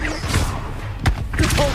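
The Incendio fire spell cast in the video game Hogwarts Legacy, a quick close whoosh with a sharp thud and a couple of brief follow-up bursts over under two seconds.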